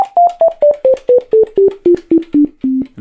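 A Sonicware Liven XFM FM synthesizer plays a run of about a dozen short, loud electronic tones in a steady rhythm, stepping gradually lower in pitch and ending on a slightly longer note.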